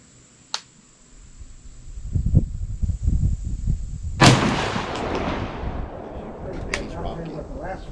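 A 3.5-inch shotgun shell of heavy number 2 steel shot is fired through a Carlson's Cremator mid-range choke at a 40-yard target, a single sharp, loud outdoor blast with a long rolling echo after a faint earlier click and rustling.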